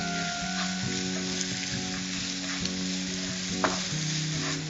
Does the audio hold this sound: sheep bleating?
no